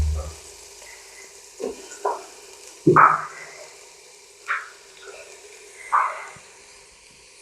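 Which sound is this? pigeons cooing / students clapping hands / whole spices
whole spices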